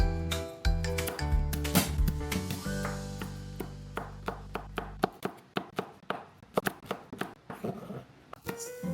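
Knife chopping eggplant, garlic and onion on a cutting board in a home kitchen for kare-kare, a run of crisp, evenly spaced taps after some clattering handling sounds at the start.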